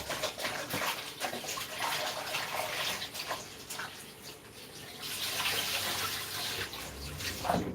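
Vegetables or bowls are rinsed under a running kitchen tap while garden egg soup is being prepared, with a steady splashing hiss of water throughout.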